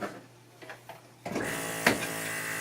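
A vacuum pump is switched on to hold a thin wooden panel on a vacuum clamp for thickness sanding. It starts abruptly and then runs as a steady close mechanical hum, with faint handling clicks before it starts.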